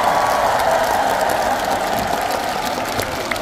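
Audience applause at a Seoul concert, a full, steady wash of many hands clapping that carries on without a break and eases slightly toward the end.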